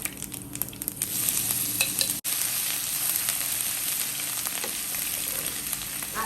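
Crushed ginger and garlic sizzle steadily in hot oil with mustard seeds and fennel for a squid thoran, a dense continuous frying hiss that drops out for a split second, with no talking.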